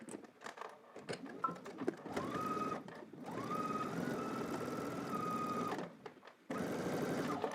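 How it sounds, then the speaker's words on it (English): A sewing machine stitches all the way around a seam, running in steady rattling bursts broken by short stops, close and clear with no voices. "And then I'm going to stitch all the way around."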